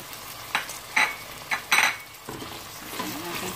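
Carrots stirred into chicken curry frying in a pot, with several sharp scraping clatters of a utensil against the pan over a low sizzle, close and fairly loud in bursts.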